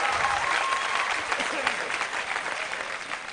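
Audience applause at a live Arabic music concert honouring a singer, steady dense clapping from a large crowd throughout, fairly loud and continuous with no talk over it.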